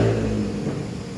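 A Honda ADV160 scooter engine runs at a steady low rumble with a mild hum, close and fairly loud, continuous through the short stretch with no talk.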